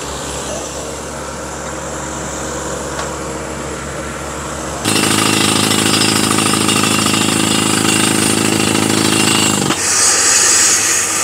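A well drilling rig with a percussion hammer head kicks in partway through, a loud, dense rapid hammering roar that follows a steadier engine drone, with a brief break near the end.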